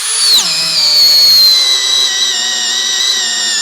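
A Keelat KCD015 18V cordless drill driver spins up on speed 1, its motor whine dropping quickly in pitch at the start and then holding a steady, loud, high buzzing hum throughout with no talking.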